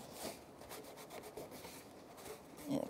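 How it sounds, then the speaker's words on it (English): A rag soaked in parts cleaner is rubbed across the body of a 2006-2013 Chevrolet Impala to wipe off leftover emblem glue, giving a steady close scrubbing swish with a few firmer strokes and a louder scuff near the end. "I'm gonna just take a rag that I put some parts cleaner on, because it will get rid of any of the glue that's left behind"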